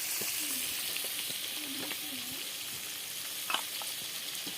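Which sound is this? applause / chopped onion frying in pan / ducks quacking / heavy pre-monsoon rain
chopped onion frying in pan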